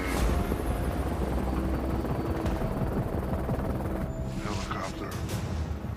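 A helicopter approaches over rough ground, its steady whir and rotor thrum filling the background at moderate to low loudness. Its brighter sounds become more distinct in the last couple of seconds.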